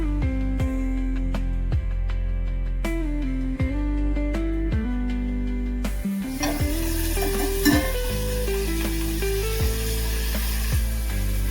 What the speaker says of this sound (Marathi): गवारला छान तेलासोबत परतवून घ्यायचं।